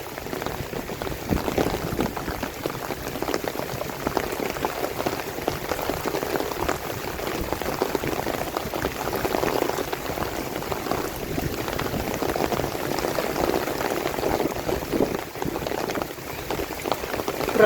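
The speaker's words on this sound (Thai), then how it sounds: "เจอฝน" Steady, dense hiss of heavy rain pattering on surfaces at a traditional boat race, continuous and even throughout with no voices.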